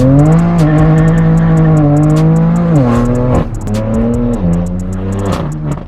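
BMW M4 F82 with a straight-piped AWE track catback exhaust, revving loud and close with a raspy harmonic drone that climbs and drops in pitch across several throttle changes, with sharp crackles through it and no talking.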